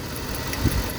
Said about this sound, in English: Whenever you take your bolt out and you pull it out, if you listen, you should hear a spark.